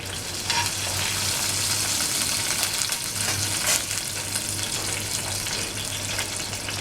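Curry leaves crackle and sizzle in hot oil for a tomato vegetable dish, a steady, dense frying hiss throughout with a faint low hum beneath and no voices.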